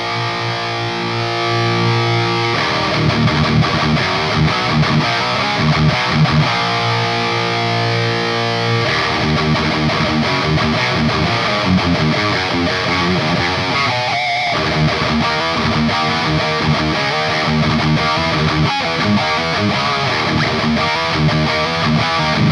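A Yamaha T100 guitar amplifier plays heavily distorted electric guitar: sustained saturated chords and riffs, loud and dense, with brief pauses between phrases and no voices.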